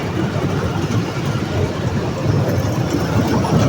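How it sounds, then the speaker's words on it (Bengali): A small children's amusement ride train runs in a lakeside park in Gazipur, making a steady rumbling, clattering drone that stays fairly loud and continuous over a few seconds. "ট্রেন চলতেছে। এই যে ট্রেন,"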